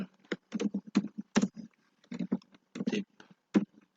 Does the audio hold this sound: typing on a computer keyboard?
yes